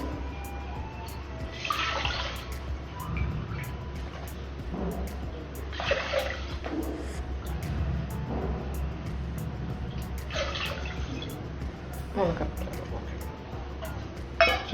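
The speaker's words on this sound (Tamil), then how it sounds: "ஸோ இந்த ஒரு கப் அரிசிக்கு 3 கப் தண்ணி இதில் மெஷர் பண்ணி நீங்கள் உள்ள ஊற்றிருங்க." Water measured at three cups per cup of rice poured into a pot in a kitchen, heard as several short splashing bursts over a steady low hum, close by.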